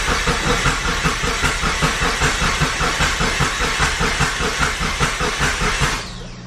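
A newly built Mitsubishi Evo 5 engine cranks on its starter in a steady, rapid, loud rhythmic churn that runs for about six seconds, then cuts off abruptly.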